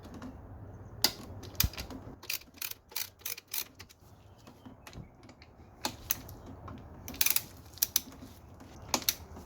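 12mm socket wrench loosening the alternator tensioner on a Subaru WRX STI, a run of quick metallic ratchet clicks in irregular bursts, close and fairly faint, with no talk.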